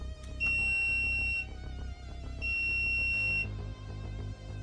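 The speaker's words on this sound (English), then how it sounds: "the connector will beep once it reaches its temperature" A filament connector for 3D printer filament sounds a loud, steady electronic beep tone twice, each lasting about a second, over a low background hum.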